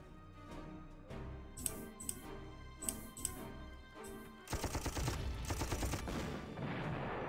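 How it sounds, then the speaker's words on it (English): Panzer tank cannon fire in the wartime strategy game Panzer Corps: a few sharp booms over a rumbling game soundtrack, then a dense, crackling volley of rapid blasts toward the end. "I want to attack this thing with the Panzer cannon"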